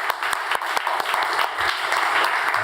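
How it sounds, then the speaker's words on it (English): Conference audience at a ministerial eGovernment event applauding a speaker named Patrick, a dense continuous wash of many hands clapping, steady and fairly loud throughout. "a big hand of applause to Patrick"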